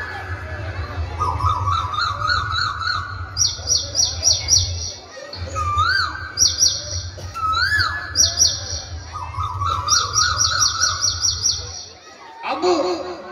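Several birds chirp and sing in bright, repeated rising and trilling calls close by, over a steady low hum, with a few quieter sounds in the background.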